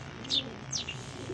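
Faint bird calls, soft coos and chirps from Teddy pigeons, rising briefly twice over a low background hum.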